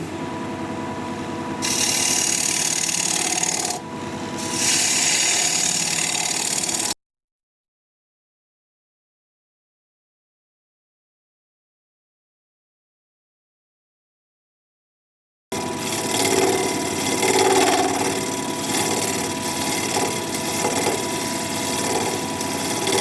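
A wood lathe spins weathered, scarred mountain mahogany while a 3/8 inch swept-back bowl gouge cuts it, giving a loud, steady whirring scrape that stops for several seconds of silence before resuming.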